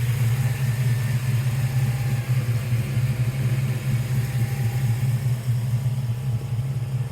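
A 1956 Chevrolet 3100 pickup with a 383 stroker engine idles nearby, a steady, loping low rumble with a slight pulsing rhythm, heard alone without talk.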